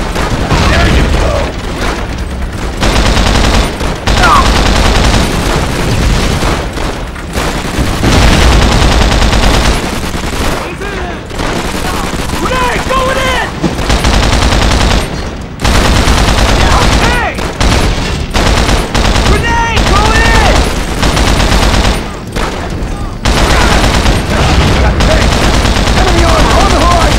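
In the Call of Duty: World at War Betio assault, gunfire and machine-gun fusillades pound almost nonstop, loud and dense, with booming blasts mixed in and shouted voices over the battle.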